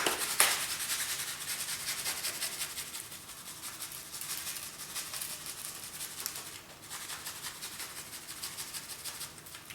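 Hands rub a thick coating of dry spice rub over a raw beef brisket, a steady close brushing and scraping texture that pulses in quick strokes with no voices.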